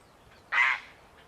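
A heron at Trentham in spring gives a single harsh, raspy squawk, loud and close, lasting about a third of a second against a quiet background.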